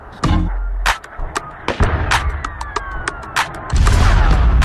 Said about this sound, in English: Explosions and sniper fire have become the soundtrack for the city.